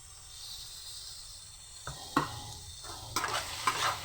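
Mustard and cumin paste stirred in a frying pan for a mixed vegetable dish, a soft steady sizzle joined midway by several sharp scraping spatula strokes, near and without talk.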